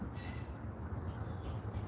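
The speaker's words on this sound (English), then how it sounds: "there's a lot of the cicadas around here" Cicadas buzz at night in a steady, dense, high-pitched drone that holds unbroken and fairly loud with no voices.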